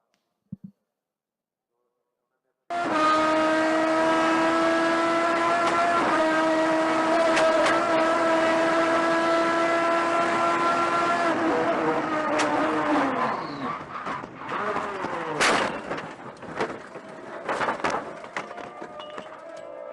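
Race cars get away from a standing start after the lights go out: after a brief quiet, a loud, sustained multi-car engine roar rises in pitch, then breaks into rasping passes and scattered bursts.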